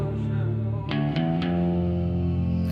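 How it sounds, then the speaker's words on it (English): Heavy, thickly distorted 808 bass sustains under a rap-country trap beat, a dense low growl with a few sharp percussive hits cutting through and no vocals. ".808 roars in with thick distortion."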